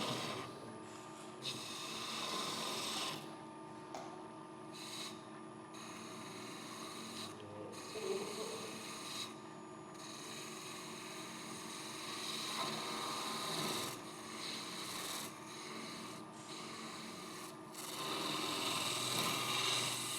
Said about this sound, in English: it's great fun making the shavings